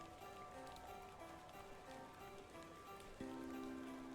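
Rain falls steadily in The Excavation of Hob's Barrow, a soft continuous patter under faint tonal game ambience, with a slightly louder shift near the end.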